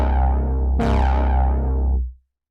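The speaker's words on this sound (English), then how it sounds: "we've instantly made an interesting and somewhat evolving thick pad sound like" Thick, evolving detuned saw-wave synth pad with a long decay: a sustained chord that brightens with a sudden swell of upper tone partway through, then fades away quickly at the end.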